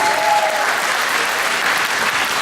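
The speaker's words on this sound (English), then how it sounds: "give her a round of applause." Audience applause at a Hura Tahiti solo dance competition in 2013, a steady dense wash of clapping that stays loud and close throughout, with a brief faint tone near the start.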